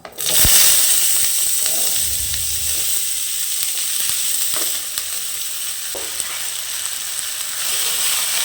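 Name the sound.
sautéing chopped capsicum in a pan with mustard seeds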